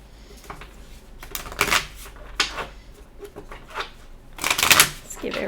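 Tarot cards are shuffled in several quick riffling bursts close up, with soft shuffling between them and a voice speaking at times.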